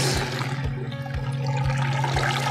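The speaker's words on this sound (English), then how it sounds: "I'm going to strain the water into there and separate the water from the solids" Fertilizer tea water being strained through cheesecloth into a bucket, a steady close gush of pouring, splashing liquid with rhythmic sloshing pulses, moderately loud and without talk.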